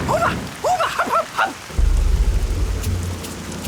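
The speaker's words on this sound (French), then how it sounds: "La foudre nous tombe dessus." A cartoon thunderstorm: a few short animated vocal sounds give way to a loud, sustained rumble of thunder and rain that rolls on steadily to the end.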